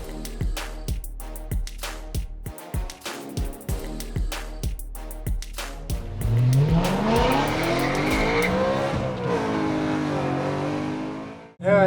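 A manual BMW M3's V8 engine revs hard and loud in rapid bursts, then roars up into a sustained rising howl with some tire squeal.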